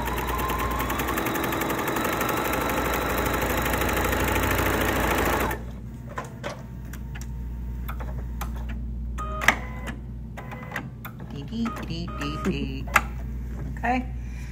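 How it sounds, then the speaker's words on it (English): A sewing machine stitches two fabric sides together with a 1/4 inch seam, whirring steadily and loudly for several seconds before stopping, followed by scattered clicks and handling noises with a voice talking. "I'm gonna sew these two sides together, and I'm doing my 1/4 inch seam still."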